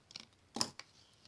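Cardstock for a Stampin' Up double pillar card being cut, a couple of short, quiet snips close by with a brief crisp slice in the middle, otherwise near silence.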